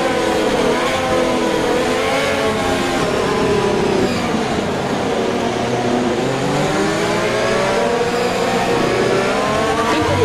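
Formula 1 race cars in the F1 2020 video game scream past together, high revving engines rising and falling in layered whines as the pack accelerates, loud and continuous for about ten seconds without speech.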